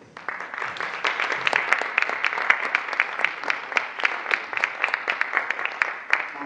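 An audience applauds an actor at a theatre interview event, steady brisk clapping from a modest group, individual claps distinct and evenly paced, moderately close and sustained.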